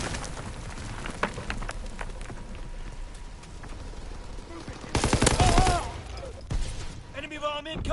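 A strafing run in a PS4 shooter game unleashes a dense, rumbling volley of gunfire and impacts partway through, loud over steady game noise and a player talking.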